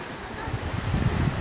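Sea waves washing on a sunny seaside day, a steady low rumble of surf mixed with gusty wind noise on the microphone, continuous and fairly close.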